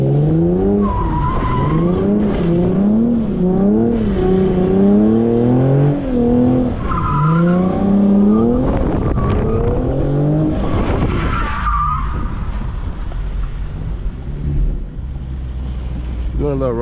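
Lexus RC 350 drifting and spinning on a wet road in the rain, with loud wavering tire squeals and a revving engine rising and falling in repeated sweeps, close and continuous.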